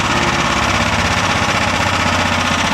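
Engine of a tracked mud buggy running steadily and loud at close range, a continuous rough mechanical drone with a vibrating, knocking texture and no talk over it.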